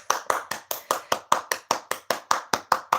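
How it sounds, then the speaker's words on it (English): A single person claps hands in a steady rhythm, about fifteen sharp, close claps over three seconds with no talking. "hand clap"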